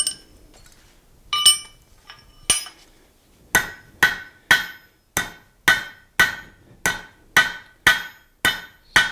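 A hammer strikes 3/8 inch square steel stock to forge a taper for a nail, a few scattered blows first, then a steady run of sharp, ringing metallic hits at a brisk even pace, close and loud.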